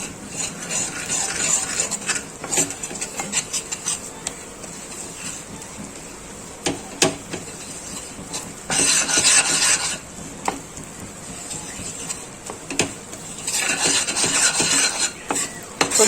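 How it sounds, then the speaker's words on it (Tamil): A thick palkova mixture of milk, sugar and maida is stirred steadily in a pan over a low flame, giving a continuous scraping, rasping rub with louder bursts of stirring, and no voices. "அடி பிடிக்காம லைட்டா கிண்டிக்கிட்டே இருக்கணும்."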